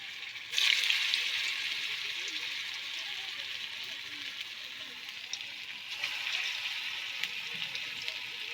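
Papaya kofta fry in hot oil in a pan, giving a steady, moderately loud hissing sizzle that rises sharply after a brief quiet start and holds evenly throughout.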